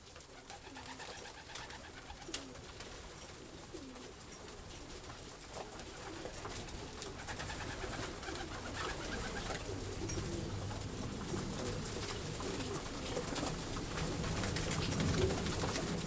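Soft, repeated cooing of several racing pigeons at a pigeon stud over a low ambient hum, continuous and moderately distant.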